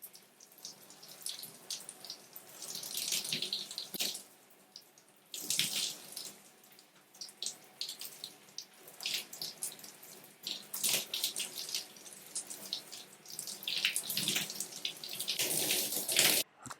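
Warm water runs steadily from a tap while hair is rinsed of conditioner, cleansing cream and temporary spray-on color, a close, continuous splashing flow that swells and eases in bursts.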